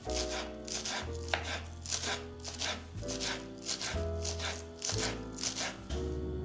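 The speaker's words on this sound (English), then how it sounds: "Chop 1 pinch of fresh onions." Steady rhythmic knife chops through fresh onion on a board, a run of close, crisp thuds repeating about twice a second over a faint low musical backdrop.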